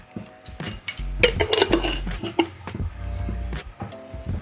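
Bottle gourd and prawn curry stirred in a pan over low heat, a spoon scraping and knocking against the metal in a cluster of close clinks and clatters, then quieter stirring.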